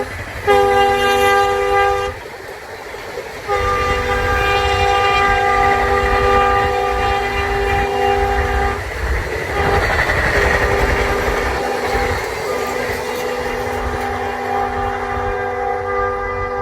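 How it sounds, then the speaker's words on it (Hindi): An Indian Railways train rushes past at speed on the Dedicated Freight Corridor, a loud, close roar of wheels and wagons with a long horn blast sounding in bursts over the rumble throughout. "देखिए किस तरीके से इस पर तेज़ी से रेलगाड़ी निकलने जा रही है, उसकी आवाज़ आनी शुरू हो चुकी है।"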